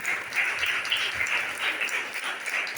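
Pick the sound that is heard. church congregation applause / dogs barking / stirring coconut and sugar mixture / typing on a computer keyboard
church congregation applause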